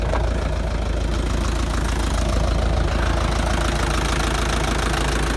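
A Mitsubishi FG 4x4 diesel service truck idles close by, a steady low chugging rumble with a regular knocking beat, alone with no talk.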